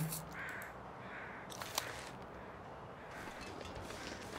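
A crow caws a few times in a video game, fairly faint, against a quiet outdoor background with no talking.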